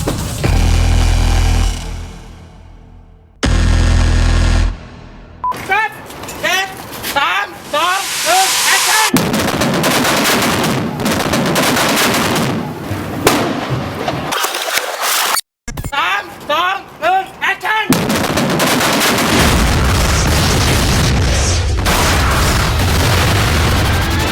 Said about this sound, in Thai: นักแสดงเสี่ยงตาย ต้องยืนอยู่หน้าระเบิดห่างเพียง 1 เมตรเท่านั้น